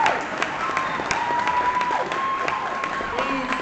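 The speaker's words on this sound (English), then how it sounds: "Please give all of them a louder round of applause." An audience at a school award ceremony claps in a sustained round of applause, moderately loud, while a voice carries faintly underneath.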